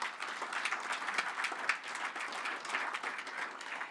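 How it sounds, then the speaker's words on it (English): A conference audience at a global digital health event applauds, a fairly quiet, steady patter of many hands clapping with slight swells, heard without talk. "I think we should all give a big clap and say thank you to him"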